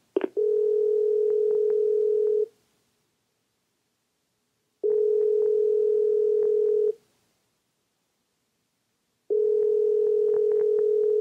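A telephone rings out on the line with three long, steady tones about two seconds each, separated by even silent gaps, clear and alone.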